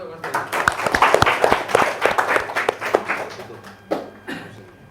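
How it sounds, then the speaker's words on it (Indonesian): Audience applause for Mas Bayu at a seminar for government contract staff, a dense burst of claps that fades after about three seconds, followed by a few scattered claps and voices. "Tepuk tangan untuk Mas Bayu."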